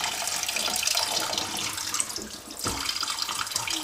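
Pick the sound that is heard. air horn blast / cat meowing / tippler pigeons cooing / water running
water running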